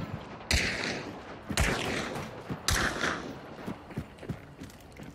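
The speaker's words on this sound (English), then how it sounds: "I hear this fucking shotgun guy." Shotgun fire in the video game Hunt: Showdown: three loud, booming blasts about a second apart, each with a ringing tail, followed by softer mechanical clicks and knocks.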